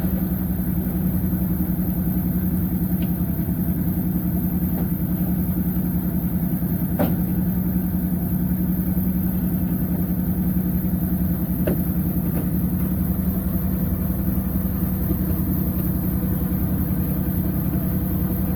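A heavy tow truck engine runs steadily with a low, constant drone, holding an even idle-like rumble throughout with a couple of faint clicks.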